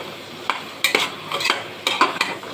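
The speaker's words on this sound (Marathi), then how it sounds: "सगळं व्यवस्थित परतून घेऊ." Chopped capsicum and beetroot sautéed in a pan for pav bhaji: a spatula scrapes and stirs in several sharp bursts over a soft, steady sizzle, close and fairly loud, with no voices.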